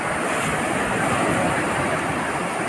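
Sea waves roll onto Samiyarpettai Beach on the Bay of Bengal, a broad, steady roar of surf mixed with wind noise across the microphone, loud and without any talk.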